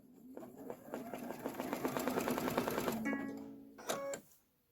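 Embroidery sewing machine stitching a Kimberbell pickup truck design, a quiet rapid mechanical rattle of needle strokes that speeds up, then slows to a few clicks and a whirring stop.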